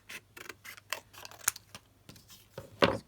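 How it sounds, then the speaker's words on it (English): Paper being cut with scissors during card-making: a run of short, crisp snips spaced unevenly, fairly quiet and close, with one sharper louder cut near the end and no talking. "So we're going to cut this off."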